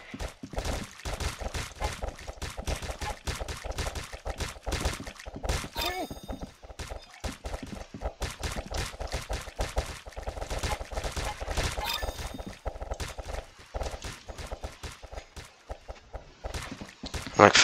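Rapid bursts of MK18 rifle fire crackle through a round of the Roblox game Arsenal, repeating in quick dense volleys with short pauses and occasional pings. A voice talks quietly under the shooting.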